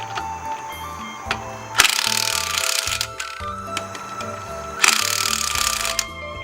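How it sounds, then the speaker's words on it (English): Two loud bursts of a power tool whirring and rattling as it tightens car wheel lug nuts, each about a second long, over a steady rhythmic music bed. "use the power tool for it"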